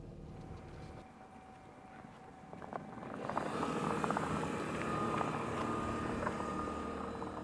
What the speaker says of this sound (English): Kind of sounds like a generator.